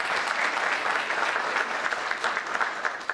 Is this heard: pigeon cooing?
no